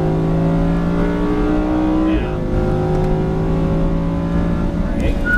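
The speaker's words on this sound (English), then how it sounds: "I'm going to let it wind out here. Because you can get some more speed out of her here." A race car engine winds out on a track with a loud, sustained, rising drone and a brief dip as the pitch resets, heard from inside the car, steady and close throughout.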